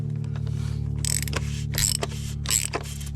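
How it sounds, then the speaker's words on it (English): A hand socket ratchet snugs down the oil filter housing on a 2014 VW Passat TDI, giving three bursts of quick clicking close up over a low steady hum, with no talking. "Grab your 33 mil socket again."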